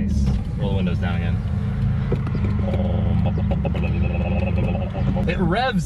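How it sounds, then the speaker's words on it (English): A Subaru WRX engine with a TurboXS J-pipe revs up and down loudly under steady road rumble, with people talking over the noise. "It revs so much more freely now."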